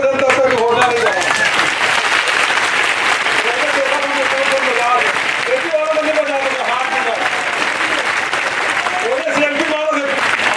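A crowd claps steadily at a political event in Balod, Chhattisgarh, with the chief minister, just before a college announcement for Jevartala. The clapping is loud and continuous throughout, with a voice talking over it.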